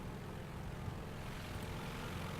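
Enemy propeller-driven warplane in War Thunder, a steady broadband drone of its engine filling the whole stretch at moderate, even loudness with no talk over it.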